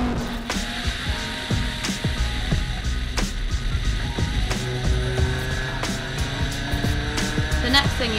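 Inside a car at speed on a track, a deafening engine drone with a rough, ratcheting mechanical rattle fills the cabin steadily and loudly throughout.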